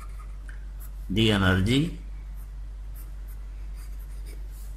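A marker or chalk squeaks and scratches across a board in one short stroke of about a second during a physics lecture, clear and close over a steady low hum, with a teacher speaking briefly.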